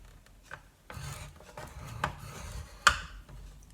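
A board scored by hand for a wax melt box makes short scraping strokes and taps, quiet and close, with a sharper knock near the end.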